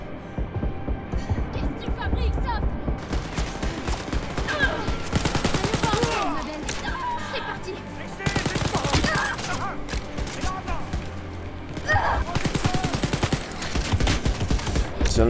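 An enemy's heavy weapon in the Wolfenstein Youngblood video game fires in loud, sustained automatic bursts with brief pauses. A voice talks over the gunfire at times.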